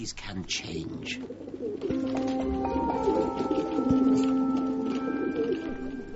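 Pigeons cooing under a steady ambient bed, with soft repeated coos and other birdlike calls, mixed with tonal background sound.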